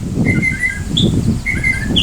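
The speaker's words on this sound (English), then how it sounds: "This bird sat on a barbecue grill and made all sorts of interesting sounds." A northern mockingbird perched on a barbecue grill on a Florida key gives short, bright whistled calls and chirps in quick bursts, close and clear over a low outdoor rumble.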